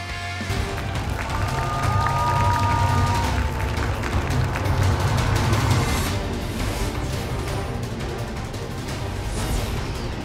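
A sustained roar of a large crowd cheering and shouting at a 2013 Blade & Soul esports tournament quarterfinal match, steady and loud throughout, with scattered claps and whistles mixed in.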